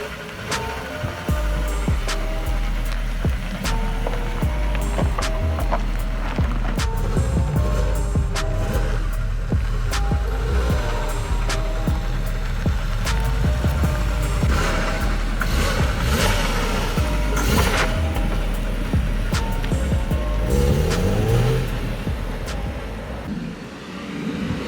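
A neglected BMW E36 M3 Evo on a test drive, its engine droning close and loud as it revs up and settles through repeated throttle changes, with intermittent clicks and knocks over a steady rumble.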